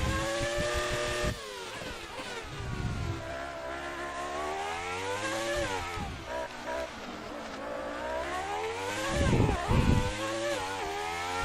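Ayrton Senna's Formula 1 car engine in F1 2018 video game, a high-pitched engine whining through rising and falling gear changes, with sharp revs and shifts, steady and fairly prominent.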